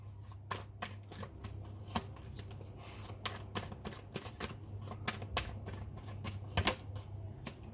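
Tarot cards are shuffled close by with a steady stream of crisp, rapid riffling clicks. A low steady hum runs underneath.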